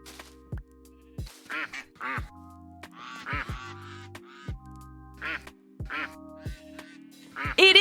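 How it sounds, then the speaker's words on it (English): Minecraft ducks, chickens reskinned as ducks by a resource pack, quack repeatedly in short clustered bursts over a steady game backdrop with occasional block and step noises, fairly close and clear. "there's a resource pack where you can turn all the chickens in Minecraft into ducks"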